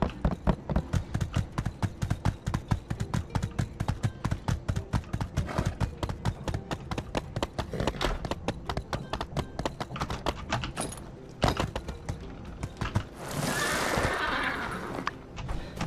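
Rapid, steady clip-clop of a horse galloping in the video game My Time at Sandrock, hooves pounding in a fast continuous rhythm, broken near the end by a brief bright shattering burst of glass.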